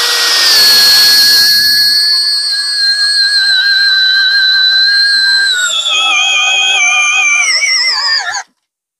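A motorized earth auger with a 25 mm bit running at low speed gives a loud, steady high-pitched whine that wavers slightly in tone, then cuts off abruptly.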